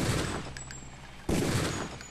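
Gunfire in the Deus Ex video game comes in two bursts, one at the start and another about halfway through, each trailing off with echo.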